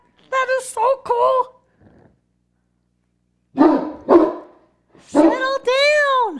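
A puppy gives a few sharp, high barks and yips close by, in two short bursts separated by a quiet pause, with a final drawn-out whiny bark.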